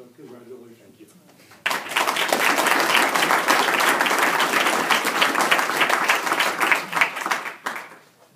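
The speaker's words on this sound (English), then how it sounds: "another round of applause for all the work" An audience bursts into sustained applause after a speech at a state assembly session, loud crowded clapping starting abruptly after a short quiet lead-in and tapering near the end.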